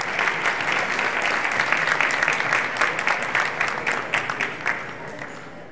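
A seated audience at an awards ceremony applauds, a dense steady wash of clapping hands that holds for several seconds and then begins to thin out and fade toward the end.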